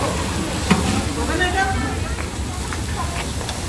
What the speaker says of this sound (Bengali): এখানে এখন পোলাও রান্না হচ্ছে।